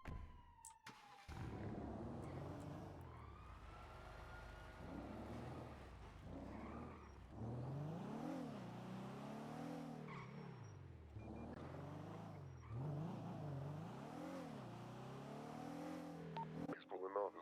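A Mustang GT in a GTA roleplay game revs and pulls away, its engine rising and falling through several gear-like surges for a long stretch, with radio-style police chatter faintly over it.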